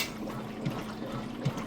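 A Kenmore washing machine agitates clothes submerged in water during its wash cycle, giving a steady sloshing churn with two soft thumps about a second apart.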